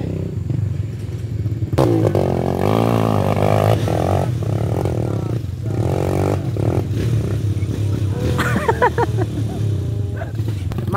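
Motorcycles ridden over rough off-road terrain during a competitive adventure ride, engines revving and labouring close by with clattering and scraping, voices and shouting mixed in throughout.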